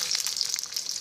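Chicken searing in vegetable oil in a pan for a stir fry with bok choy, giving a bright, continuous sizzle that crackles close and loud for a moment with no voices.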